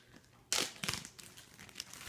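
A plastic bag being crinkled by hand close up, starting with a sharp rustle and continuing as a few quieter crackling bursts against a faint background.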